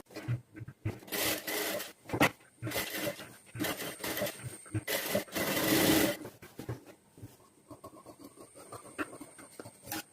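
Sewing machine stitching the neckline of a dress, running in loud close bursts of rapid needle rattle separated by pauses and fabric handling.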